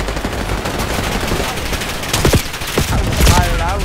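A shotgun fires in a video game, several sharp, loud blasts in quick succession over dense game noise, with a voice shouting and reacting between the shots.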